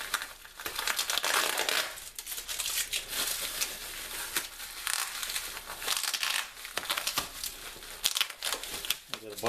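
Crinkling and tearing of taped packaging around an HP-8656B RF signal generator, loud crackly bursts of plastic and paper crumpling in an uneven rhythm, close up with no talk.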